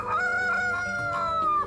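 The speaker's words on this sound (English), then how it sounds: "It's quite a difficult thing to get them to crow." A rooster on a film set gives one loud, close, drawn-out crow that holds steady and tails off at the end, with no talking.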